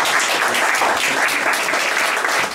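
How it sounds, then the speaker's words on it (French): An audience gives a welcoming round of applause for a guest named Jérôme, a dense, steady burst of clapping that fills the whole moment with no voices over it. "vous pouvez l'applaudir."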